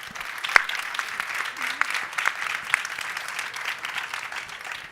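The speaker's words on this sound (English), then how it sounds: "Give them all a round of applause" Applause from a business conference audience, steady clapping at moderate loudness with a few sharper individual claps standing out, carrying on throughout without a clear fade.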